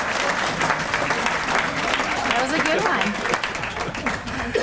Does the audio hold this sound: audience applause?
yes